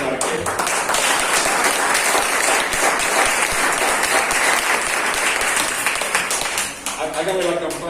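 A church congregation bursts into loud, sustained applause, dense clapping from many hands filling the room for several seconds before thinning slightly at the end.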